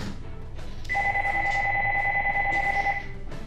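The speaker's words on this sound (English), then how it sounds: "excuse me if you can hear the phone ringing" A telephone rings with a steady two-tone electronic trill for about two seconds, moderately loud over a constant background hum.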